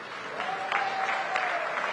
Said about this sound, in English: It's a deserved round of applause.